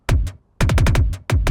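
Punchy drum and bass kick drum sample, a run of loud, close, deep thumping hits in a quick uneven pattern with short gaps between groups, heard alone.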